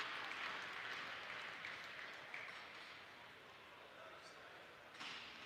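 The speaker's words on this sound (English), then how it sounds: "Hosak assisted to his feet and being helped to the bench as the crowd gives their applause." Crowd applause at a live Miami club hockey game as an injured player is helped to the bench, a steady broad clapping wash that slowly fades, with a brief louder burst near the end.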